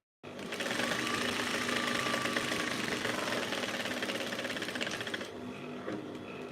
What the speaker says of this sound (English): So you can see I'm just stitching the edges. That's the side seam rather.